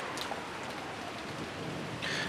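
Steady rain and wind from the Umineko video game, a continuous hiss of falling rain at an even level with a brief brighter gust near the end and no voices.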